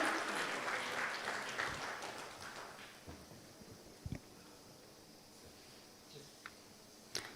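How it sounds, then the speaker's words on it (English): Audience applause for the panelists at a corporate governance summit session, a broad wash of clapping that is loudest at the start and thins out toward the end, with a few scattered claps standing out near the close. "can we have a huge round of applause for all our panelists"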